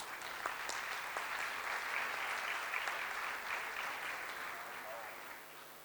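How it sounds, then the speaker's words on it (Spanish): An audience at a human rights panel dialogue gives sustained, even applause for a speaker from a social workers' association; dense clapping carries evenly throughout, heard at a moderate distance and fading slightly toward the end. "Un fuerte aplauso para ella"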